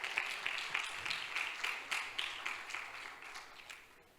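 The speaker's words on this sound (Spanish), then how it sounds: "Aplaudí, aplaudí, aplaudí." An audience applauding in a church during a sermon, a soft, roomy patter of clapping that pulses in waves and gradually fades toward the end.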